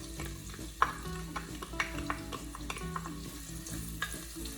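Onions frying in a pan for arroz caldo, with a close steady sizzle and repeated scraping stirs and light clinks of a utensil.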